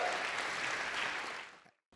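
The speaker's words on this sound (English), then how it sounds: "Let's give him a big round of applause." An audience applauds at the 2023 Reflections awards ceremony: dense, steady clapping that holds for over a second and a half, then tapers away to near silence.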